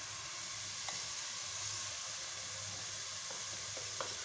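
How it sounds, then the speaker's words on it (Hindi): Kadhi pakora masala frying lightly on a low flame makes a faint, even sizzle and hiss, with a couple of soft stirring clicks near the middle and end and no speech. "मैंने इसे 1 मिनट तक के हल्का सा फ्राई किया है।"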